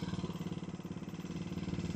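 A motorcycle engine with worn cams runs at idle during a night ride in Tokyo, its quiet, steady hum broken by a rapid, regular knocking pulse.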